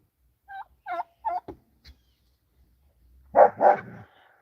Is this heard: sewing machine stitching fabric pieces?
no